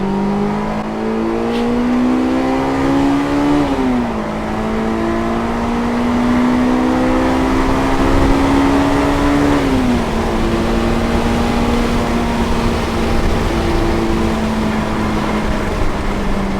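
2002 Honda S2000 accelerates steadily from the driver's seat, a loud, continuous engine tone climbing through the gears with two brief dips at the shifts, heard from inside the cabin.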